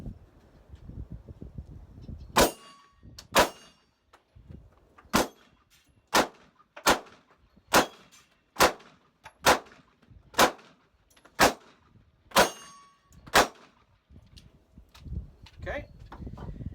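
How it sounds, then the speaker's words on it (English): A Taurus PT-111 G2 9 mm pistol fires about thirteen sharp, loud shots at a steady, deliberate pace, each crack standing out clearly against a quiet outdoor background. "let's do some shooting. First is the Taurus PT-111 G2"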